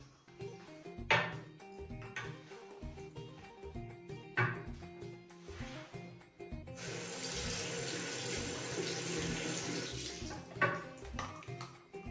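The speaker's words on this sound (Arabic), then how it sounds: "غادي نوض نغسل وجهي مزيان" A tap runs steadily into a sink as a face is washed, a continuous hiss of flowing water for several seconds between quieter handling sounds and small clatters.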